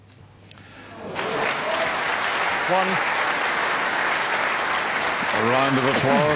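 Snooker match audience applause starts after a quiet moment and swells into sustained clapping from a large crowd, while a commentator talks over it intermittently.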